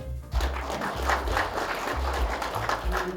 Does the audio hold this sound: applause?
yes